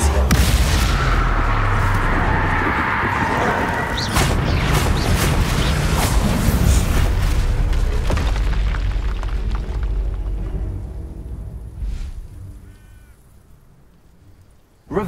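A Bombarda spell explodes in the Hogwarts Legacy video game: a loud, dense, roaring blast that fills the first several seconds, then rumbles and slowly fades toward quiet near the end.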